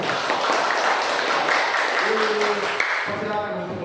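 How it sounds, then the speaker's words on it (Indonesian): A group gives a short round of applause for presenting group 1 in a classroom, steady clapping from many hands under a speaking voice. "kita berikan aplaus untuk kelompok 1"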